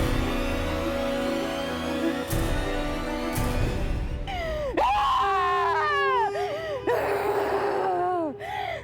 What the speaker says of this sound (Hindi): अरे चलो देखते हैं कौन चिल्ला रहा है।